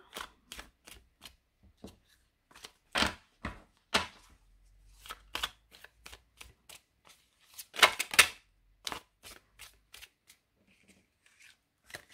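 Tarot cards being shuffled and laid out for a general reading: a series of crisp, close slaps and flicks in irregular bursts, with brief quiet gaps between them and no talking.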